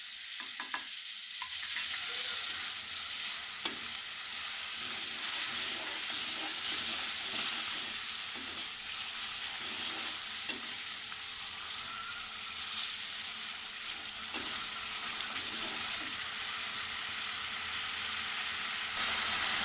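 Masala of tomato and turmeric fries and sizzles in a pan for aloo matar gajar, a steady hiss with repeated scraping stirs at a fairly close, even level, no voices.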